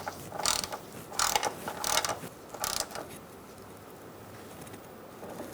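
A ratchet tightens a bracket bolt on a 2002-2006 Honda CR-V during rear parking brake cable work, giving several short bursts of rapid clicking up close before quieting to faint background.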